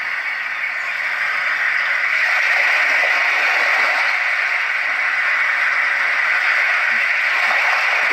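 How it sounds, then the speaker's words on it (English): A Roffie white noise sound machine plays its crashing ocean waves setting, a steady broadband hiss with soft swelling surges, continuous and even with no voices over it. "This is crashing waves."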